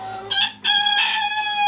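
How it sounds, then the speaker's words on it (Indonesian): A rooster crows loudly and close by on an ornamental chicken farm, a single drawn-out call with a short break partway through. "ini yang khusus ayam hias ada di sini ya"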